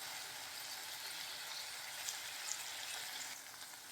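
Vegetable stuffing fries in a pan over a medium flame, a faint, even hiss of sizzling with a few small pops, heard alone and steady.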